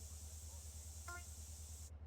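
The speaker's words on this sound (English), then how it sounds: "hop over the fence and spray the tag." In GTA San Andreas, a spray can lays down a graffiti tag with a continuous aerosol hiss over a low background hum. The hiss cuts off sharply near the end.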